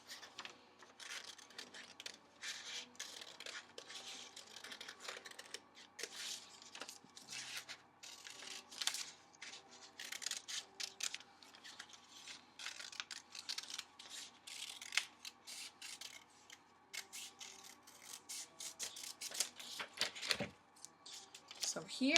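Scissors snip through a sheet of paper folded in half to cut out a letter C, giving a steady run of quick, close crisp cuts and rustles, with a voice faintly present at times.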